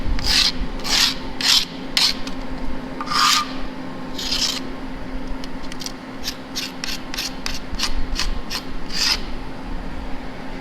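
Parts from a 1939 Farmall H tractor being scrubbed clean of old gunk, a run of rasping strokes in irregular bursts, then quicker regular short scrubs, close and fairly loud over a steady low hum.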